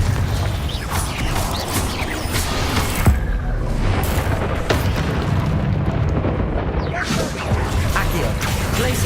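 Fiery spell blasts in the Hogwarts Legacy video game boom and crash through a dense, loud mix of game effects and debris, with a voice calling out spells over the combat.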